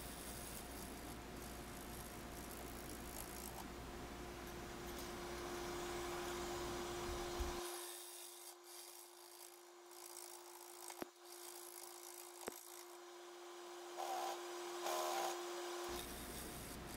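A wood lathe turns a spruce burl, a steady whirring hum with a high tonal whine and scraping tool noise, joined by a few sharp ticks near the end.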